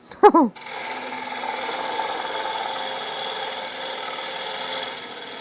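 A gouge makes a pull cut on a spinning wood lathe during a production turning run: a brief sharp bite of the tool, then a steady whirring hiss of the cut that holds evenly for several seconds.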